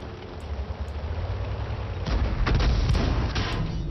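Artillery shells slam down in World of Tanks battle play, a broad booming blast at about two seconds followed by a rumbling run of heavy impacts, loud and close with no talking.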